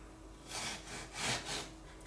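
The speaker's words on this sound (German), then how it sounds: "Und jetzt schneide ich die in die Stücke." Serrated knife sawing through orange Christmas cookie dough, faint rasping strokes in a few short back-and-forth bursts, quiet and close with no speech.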